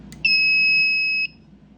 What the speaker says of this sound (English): Yeah, this is all of my fire alarms.